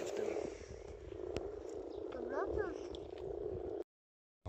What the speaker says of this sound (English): I think the frogs have been the highlight.